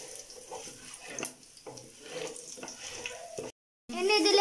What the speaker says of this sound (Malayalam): ഏലക്കായ, പെരിഞ്ചീരകം, കറുവപ്പട്ട ഇതെല്ലാം കൂടി നമുക്കിതിലേക്ക് ആഡ് ചെയ്ത് കൊടുക്കാം. ഇതൊന്ന് നന്നായി ഇളക്കി കൊടുക്കാം.